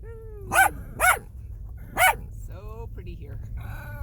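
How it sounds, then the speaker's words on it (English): Several dogs bark in sharp, loud single barks, three close together, then whine and yip in a softer high voice, with a low rumble behind, indoors in a vehicle on a trip in Alaska. "Do you have anything to say, Stanley, since everybody else is having a bark fest?"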